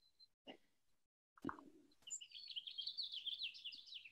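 Birdsong chirps and warbles steadily in the open air after a few soft knocks and clicks, moderately distant and continuous.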